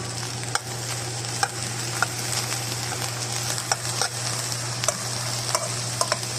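Meat for sambosa filling sizzles and fries in a pan while it is stirred, with a continuous crackling hiss and scattered scraping clicks from the stirring, close and steady with no voices.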